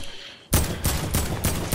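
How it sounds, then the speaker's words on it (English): Shotgun fire in the Fortnite video game: a sudden loud blast after a quieter start, followed by several more heavy shots in quick succession, close and booming. "Shotgun, shotgun."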